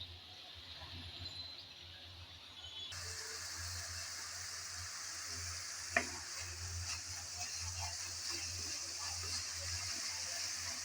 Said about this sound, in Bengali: সামান্য পানি দিয়ে নেড়ে চেড়ে ভালোভাবে মশলাটাকে কষিয়ে নিতে হবে